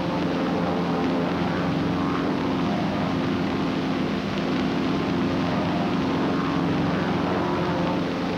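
Propeller aircraft flying in close formation, with a wingman dropping below and behind another plane and crossing under slowly on throttle; a steady, loud, continuous engine drone holds throughout with no talking.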